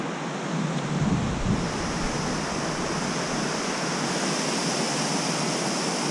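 A creek rushing through a slot gorge along the North Fork Skokomish River, a dense, steady roar of water that stays loud and constant throughout.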